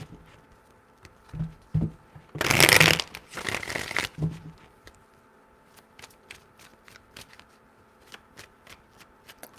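Tarot cards are shuffled in a few loud riffling bursts, followed by a string of soft taps and flicks as the deck is handled up close.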